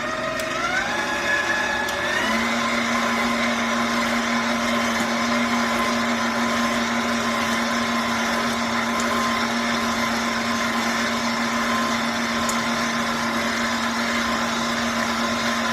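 A spiralizer attachment on a stand mixer turning a vegetable into zoodles, a steady motor whine that climbs in pitch during the first couple of seconds, then drones evenly and loudly without a break.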